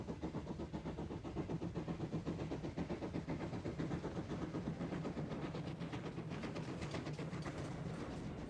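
A GWR steam locomotive hauling a passenger train produces a steady, rhythmic chuffing and rolling rumble that carries on without a break, moderately distant, with no talk.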